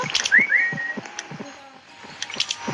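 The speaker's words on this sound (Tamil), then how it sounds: "நான் விசிலுக்கு மேலே விசில் அடிக்க போறேன் கை" A whistle blown inside the Roblox game Paint and Seek, heard as a couple of short rising whistle tones near the start over a busy background of game clicks and thumps, with no speech.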